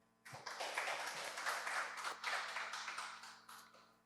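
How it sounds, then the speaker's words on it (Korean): An audience in a church prayer meeting applauds a speaker being welcomed, a fairly faint burst of clapping that swells quickly, holds for a few seconds, and tapers off. "큰 박수로 맞이해 주시기 바랍니다"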